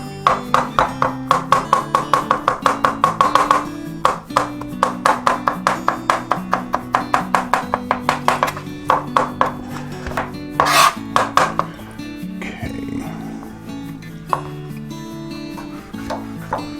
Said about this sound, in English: So let me get these chopped up